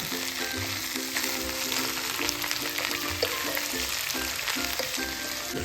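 Sliced okra with a pinch of turmeric sautés in a pan, a continuous close sizzle and crackle with occasional stirring scrapes, over a faint steady tonal background.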